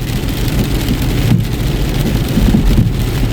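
Heavy rain roars continuously during a storm, a thick wash of drops with a low rumbling undertone and a couple of slight dips in intensity.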